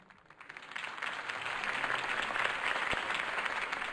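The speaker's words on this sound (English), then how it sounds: "If only Mr. Wayne, my campaign's largest backer, could have heard that applause" A video game crowd claps and cheers in a steady, dense wash of applause that swells in over the first second and holds loud to the end.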